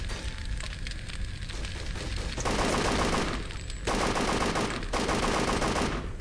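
Sustained automatic gunfire rattles in dense bursts during combat in the World War II shooter UberSoldier II, loud and close, with brief lulls between long volleys and no talk.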